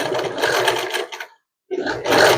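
A sewing machine stitching a rug made from rope runs as a steady, close mechanical whir. It stops briefly with a short silence, then starts up again.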